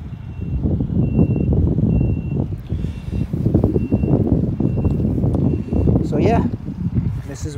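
A snow plow truck reverses with a steady, repeating backup beeper over a loud, continuous engine rumble on a snowy car lot, with a voice briefly heard near the end.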